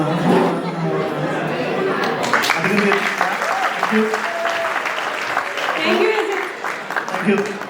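Audience applause fills an Easter, Eid and Vishu inauguration event, a steady wash of clapping from a crowd with chatter and a voice speaking over it.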